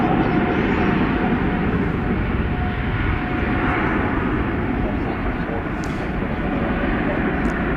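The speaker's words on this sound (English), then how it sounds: "We've got a large aircraft about to take flight here." A Boeing 787-9 Dreamliner airliner at DFW Airport building to a loud, steady roar as it takes off at night, heard from a distance with voices talking over the engine noise.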